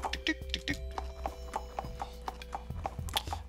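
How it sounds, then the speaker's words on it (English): A horse's hooves clip-clop in a quick, steady rhythm of sharp knocks in a pony adventure video game, with a faint tonal hum running underneath. "Horse, gallop, damn it."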